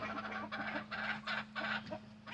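Soft, repeated clucking from chickens in short bursts, fairly quiet, over a steady low hum.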